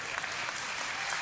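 An audience at a BlizzCon Q&A session claps in a brief, dense, steady burst of applause filling the hall.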